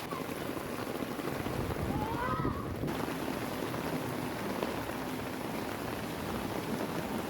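Steady rain falls in Metro Manila, a dense even hiss of drops on surfaces that holds constant throughout with no one speaking.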